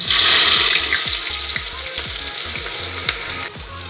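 Chopped onions sizzle and fry in hot oil with fenugreek, cumin and asafoetida, a loud, close hiss that starts strongest and settles into a steady frying crackle, with no talking.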